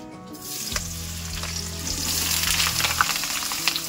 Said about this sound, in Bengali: তেলটা গরম হয়ে গেছে, এবার এঁচোড়গুলো দিয়ে দেবো।